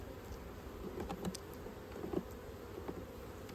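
Honey bees buzzing around hive boxes and a honey super from a double nuc: soft, close buzzing flits in and out in short passes over a quiet outdoor background, with no voices.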